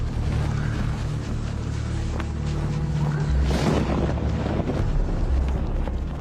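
Bitterly cold wind at about minus twenty-five blowing hard across a microphone outdoors, a loud continuous roaring buffet with rumbling low gusts and brief flaring surges.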